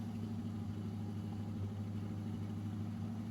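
A C6 Corvette drift car's LS engine idles on a dyno with a steady low rumble and even mid-pitched drone, constant and unvarying, with no talk over it.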